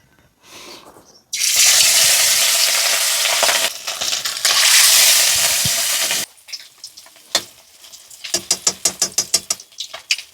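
Mustard oil poured into a hot kadai for a Bengali katla fish curry, setting off a sudden loud broadband sizzle that roars for several seconds, then breaks into a rapid run of sharp crackling pops and spits, close and without talk.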